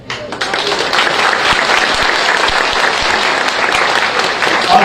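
A rally crowd claps steadily and loudly throughout, a dense unbroken wash of applause from many hands with no pause.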